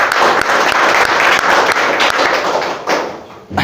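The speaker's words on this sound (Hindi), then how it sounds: "मैं समझता हूँ कि इस पर तो तालियां हो जानी चाहिए।" A ceremony audience bursts into applause for a Unani ENT specialist, a dense, loud clapping that runs steadily with scattered sharper claps and eases off near the end.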